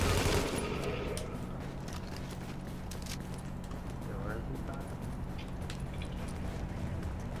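Sporadic gunfire from computer-controlled enemies in the video game Tom Clancy's The Division, faint scattered cracks over a steady low hum, with a louder burst at the very start.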